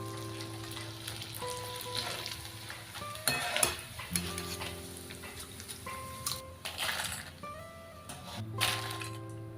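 Grated potato sizzles and crackles steadily as it fries in hot oil for a crisp fasting sabudana chiwda, with occasional stirring clatter close up.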